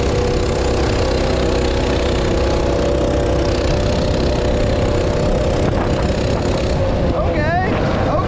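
A small minibike engine with a torque converter runs steadily and loudly, a continuous buzzing drone that holds across the whole stretch, with a short whine near the end.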